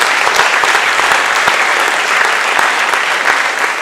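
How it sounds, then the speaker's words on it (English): Loud, sustained applause from the audience at a school athletic awards banquet, many hands clapping in a dense, even roar with no pauses. "Let's give her a big round of applause."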